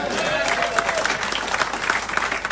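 A seminar audience applauds a business mentor and public speaking coach, dense steady clapping from many hands filling the room, moderately loud and continuous, with some faint voices mixed in.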